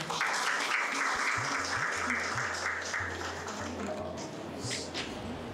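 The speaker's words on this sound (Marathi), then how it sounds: "एकदा आपल्या नितीनसाठी टाळ्या उंचावू" An audience at a book launch gives sustained applause for Nitin, a dense steady patter of clapping that holds for several seconds and eases slightly toward the end, with faint voices underneath.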